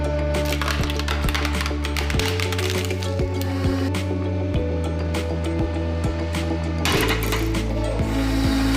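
A hydraulic press grinds and ratchets while bearing down on a small portable table, with steady mechanical whirring, repeated clicking and creaking, and a sudden louder crunch near the end.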